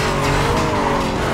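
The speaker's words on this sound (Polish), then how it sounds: "Ale pięknie to auto przyspiesza." Car engine accelerating in Need for Speed Carbon, loud and continuous with dense roaring tone and a faint tyre-squeal edge, no voices over it.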